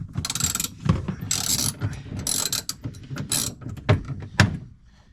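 A ratchet with a 10mm socket loosens a bolt while fitting off-road roof rack lights to a Mitsubishi Pajero, giving rapid, close clicking bursts and repeated strokes with a few heavier knocks and no talk.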